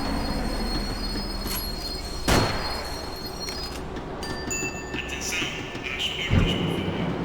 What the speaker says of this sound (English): The tram was slowing down, and I'd only just gotten on board.